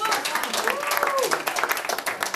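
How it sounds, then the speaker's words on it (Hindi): An audience at a film poster launch applauds in a brief, fairly faint burst of scattered clapping, with voices and crowd murmur mixed in. "उनके लिए तालियां हो जाए।"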